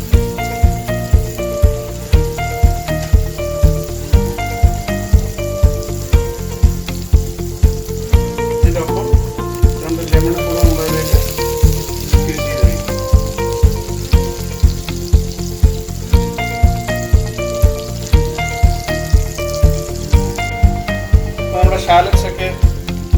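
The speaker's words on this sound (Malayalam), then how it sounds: "നമ്മൾ അരിഞ്ഞ് വെച്ചിരിക്കുന്ന ഷാലറ്റ്സ് അല്ലെങ്കിൽ ചെറിയ ഉള്ളി ഓയിലിലേക്ക് ഇട്ടിട്ട്" Chopped shallots, or small onions, fry in oil for a plum sauce with a constant crackling sizzle, marked by a steady run of sharp taps from stirring, while music plays underneath.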